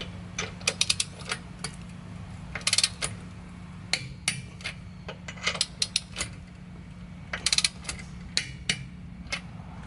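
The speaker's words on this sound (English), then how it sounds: "I'm going ahead and torque this to spec" Torque wrench tightening Muteki lug nuts to 95 foot-pounds on a 2018 Subaru WRX: sharp, close metallic clicks and ratchet ticks arrive in irregular clusters over a steady low hum, with no talking.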